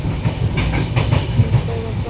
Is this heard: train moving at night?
yes